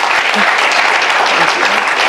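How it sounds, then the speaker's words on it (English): An audience claps continuously in a dense, steady burst of applause during a talk-show interview, filling the room with loud, even patter. "Every time you pause, they clap."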